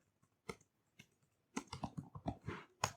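Typing code on a computer keyboard while building a Flutter app with Cloud Firestore: a few isolated keystrokes, then a quick irregular run of crisp clicks, close and clear with no talking.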